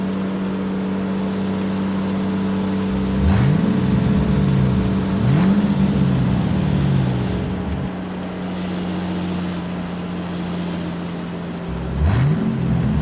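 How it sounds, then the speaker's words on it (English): Toy crane truck on the move, a steady motor drone with a couple of quick rising revving swoops early on and another toward the end. "Crane truck."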